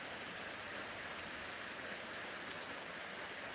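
Heavy rain pouring over farmland during a thunderstorm, a dense, even hiss of falling water with no breaks, steady and continuous.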